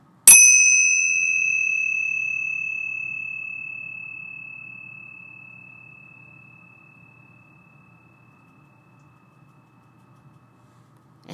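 A single strike of tingsha bells gives a bright, piercing ring that sustains and slowly decays over many seconds into near silence, with no voices.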